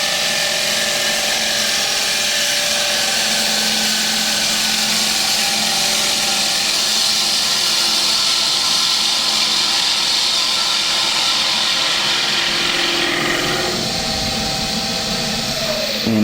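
Wood lathe taking a light finishing cut on a turned bowl: a steady, close hissing, scraping whir runs continuously with no talk, changing tone slightly near the end as the cut eases off.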